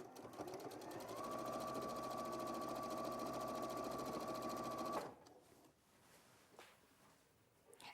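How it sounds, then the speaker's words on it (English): Domestic sewing machine runs steadily and loudly while top stitching a patchwork jacket, a dense rapid stitching rhythm with a whine, stopping abruptly partway through and leaving a quieter room. "Okay, so I'm gonna top stitch it here"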